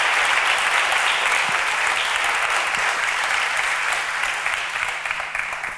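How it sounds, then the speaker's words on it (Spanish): Sustained audience applause at a literature event during the Blacklladolid 2023 festival, a dense, steady wash of clapping from a crowd that holds for several seconds and fades slightly toward the end. "un fuerte aplauso para todos los que nos están siguiendo"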